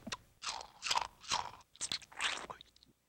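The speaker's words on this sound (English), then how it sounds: "I think the goat is chewing on your pants." A goat chews on a pair of pants in a barn, giving five or six close, crunchy bites and scraping chews in a steady rhythm before falling quiet.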